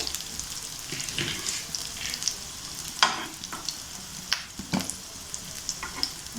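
A stuffed vegetable chapati roasts on a pan with a steady, quiet sizzle, broken by a few sharp clicks and scrapes from handling it.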